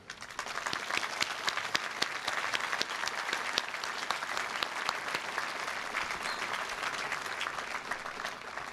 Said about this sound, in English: Let us applaud them for their devoted and honorable service.